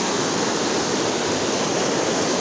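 Raging river rapids in strong, fast water, a steady roaring rush of broadband noise holding at constant loudness throughout, with no voices.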